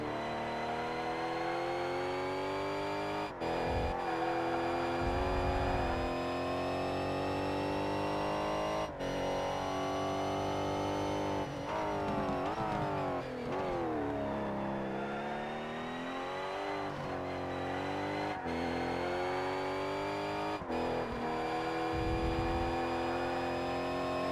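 Race car engine in the ToCA Race Driver 3 video game during a GT Tuning Cup lap, droning steadily and loud throughout with rising and falling revs and brief gear-shift dips, no talking.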